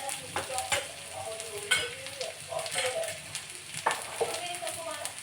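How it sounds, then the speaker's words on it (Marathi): Fresh peeled garlic sautéing in hot oil for a misal recipe, a steady near sizzle with scraping stir strokes and brief louder clatters, a faint voice now and then in the background. "तेही आपल्याला तेलामध्ये परतून घ्यायचे"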